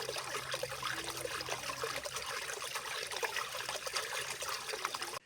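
Flowing water drives old water-powered machinery, a continuous trickling, splashing rush at moderate level that carries on for about five seconds before cutting off abruptly, with no voices.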